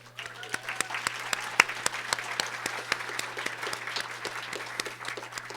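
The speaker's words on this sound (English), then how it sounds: "let's give another round of applause for the Montana Historical Society." An audience at a Montana talk gives a round of applause for the Montana Historical Society, a steady patter of many hands with individual sharp claps standing out and a low electrical hum underneath.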